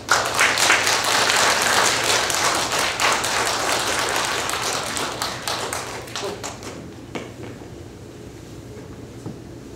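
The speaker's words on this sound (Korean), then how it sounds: "받으실 때 박수 한번 쳐주시죠." A church congregation applauds during a Sunday service, loud and dense at first, then gradually thinning out into scattered claps as it fades.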